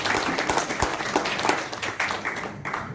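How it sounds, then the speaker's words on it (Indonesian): An audience at a business presentation claps steadily for several seconds, giving a moderately loud, uneven patter of many hands with a few sharper individual claps standing out near the front. "Berikan tepuk tangan untuk saya."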